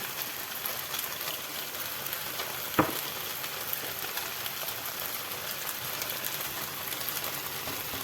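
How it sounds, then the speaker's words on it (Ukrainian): Calf liver frying in a pan under a lid gives a steady, even sizzle with a soft crackle all the way through, and one sharp tap partway in. "Знову накриваємо кришкою і смажимо з іншого боку."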